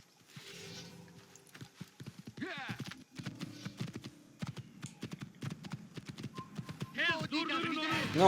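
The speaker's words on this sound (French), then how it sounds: "Il devrait y avoir un cheval juste ici." A horse's hooves clip-clop steadily in the video game Assassin's Creed, close and rhythmic, with a whinny near the end and a voice talking now and then.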